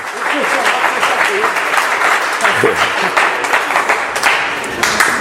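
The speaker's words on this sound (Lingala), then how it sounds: "Acclamez très fort le Seigneur" A church congregation claps loudly and continuously in praise of the Lord, a thick sustained roar of many hands while a preacher's amplified voice keeps calling out over it.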